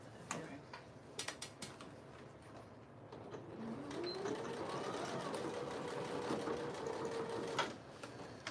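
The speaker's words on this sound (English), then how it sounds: "you're just going to stitch all the way around" A Juki TL 2000QI sewing machine stitches fabric, starting with a few sharp clicks, then whirring steadily with a rising motor hum before stopping; the sound is faint and close.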